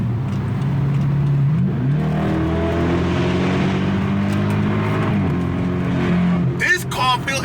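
BMW 550GT wagon with a loud exhaust, revving hard from inside the cabin with rising and falling engine tones across several pulls, a voice briefly heard near the end.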